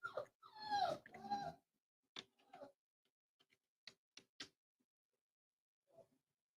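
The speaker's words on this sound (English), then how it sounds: "And my puppy is whining." A puppy whines indoors in a cluster of high, wavering whimpers near the start, then a few short, soft clicks and one last faint whimper follow in near quiet.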